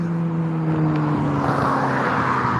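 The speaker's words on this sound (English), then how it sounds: "Boy, that green motorcycle was hauling ice." A green motorcycle speeds past outdoors, its engine tone rising and falling as it approaches and goes by, a steady, fairly loud roar with no talking.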